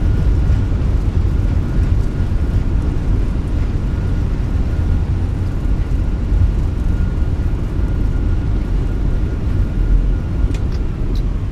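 An Airbus A321 rolls out on the runway after landing in a flight simulator, a loud continuous low roar of engines and thrust reversers that holds steady throughout with no talk over it.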